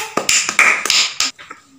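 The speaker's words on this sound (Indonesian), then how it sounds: "Beri tepuk tangan untuk kelompok 1" Classroom applause for a student group after a presentation: a handful of sharp, separate claps from few hands, close and fairly loud, tapering off into softer scattered claps.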